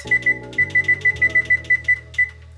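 A kitchen timer beeps in a quick series of about a dozen short, bright electronic tones while blue crabs sit in a covered pot, over a low steady hum.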